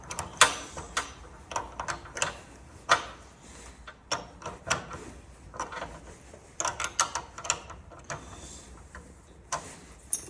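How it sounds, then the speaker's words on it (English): A nut on the chain tension rod of a LiftMaster garage door opener is tightened with a wrench, making irregular close metallic clicks and ratcheting taps in quick bursts with short pauses between. "And then once you have it at the tension you want, you tighten up this other nut."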